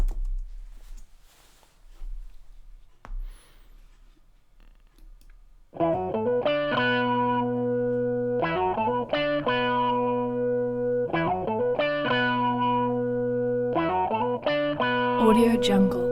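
Preview of a distorted blues rock hip hop track, with chunky guitar chords in short repeated bursts after a few seconds of quiet clicking.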